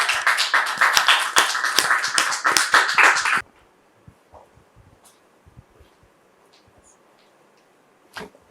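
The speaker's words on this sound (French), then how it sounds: "applaudissements, s'il vous plaît." Short burst of studio audience clapping on a talk show, crisp individual claps for about three seconds, then it stops abruptly into near silence with scattered small taps and a final clap.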